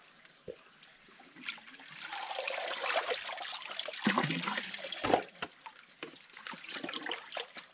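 Water gushes and gurgles out of a pipe while a household well in the Philippine countryside is being cleaned, swelling from faint to a steady rushing flow with intermittent splashes and knocks.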